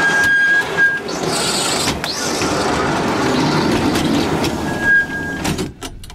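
A narrow-gauge dacha railway wagon rolling on rails, a loud steady rumble and clatter of wheels with metallic squeals and screeches, close and continuous without speech.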